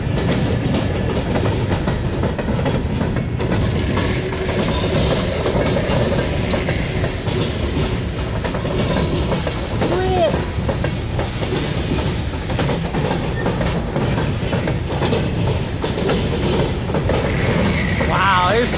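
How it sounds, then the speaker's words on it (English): A long Norfolk Southern freight train rolls past close by with continuous rumbling, rhythmic clatter of wheels and occasional brief squeals, voices faintly underneath. "still a ton of train coming out."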